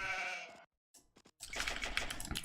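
A sheep bleats in the Age of Empires II video game: one clear bleat at the start, a short gap, then quick interface clicks and dense in-game noise.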